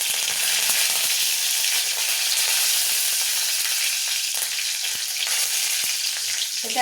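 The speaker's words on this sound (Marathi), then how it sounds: "मोहरी तडतडली का थोडा कढीपत्ता टाकायचा त्याच्यात" Mustard seeds and curry leaves crackle and sizzle steadily in hot tempering oil, a dense continuous frying hiss close up with small pops throughout and no voices.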